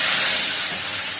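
Fenugreek seeds hit hot oil for tempering, and a loud, steady sizzling hiss fills the moment, close up, fading only slightly.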